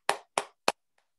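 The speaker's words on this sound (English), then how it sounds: "Clap it up, y'all." Three sharp, separate hand claps in a quiet room, evenly spaced and close, followed by a faint fourth tap and then silence.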